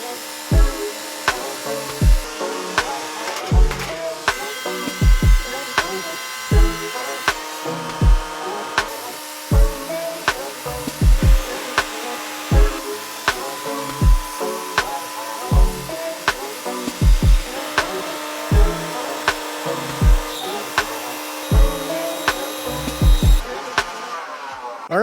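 A sawmill blade cuts through a curly black walnut log, a steady grinding, rasping drone with regular rhythmic knocks and surges that carries on for the whole stretch, fairly loud and close, with no talking.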